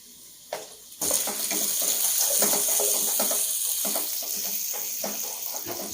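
Tomatoes hit hot oil in a pan of desi chicken karahi, setting off a loud, sudden burst of sizzling that carries on as a steady close frying hiss with small crackles, no talking.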